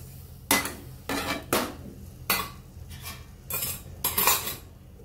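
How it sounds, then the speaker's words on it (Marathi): A lid goes onto a cooking pot of brinjal in a run of close metallic clanks and scrapes, about seven sharp knocks with short pauses between, heard alone. "यावरती झाकण ठेवते."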